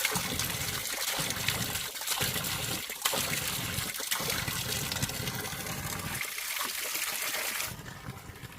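Water pours from a mountain spring spout in a continuous splashing trickle, close and steady, with short breaks as the flow is interrupted, probably by hands, then a quieter tail.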